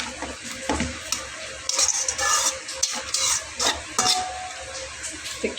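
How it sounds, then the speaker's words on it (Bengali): Turmeric and spices for a pangas fish curry with potatoes being sautéed in a pan, close stirring and scraping with bursts of sizzle and a few metallic utensil clinks, fairly loud with no voices. "একটু কষিয়ে নেব।"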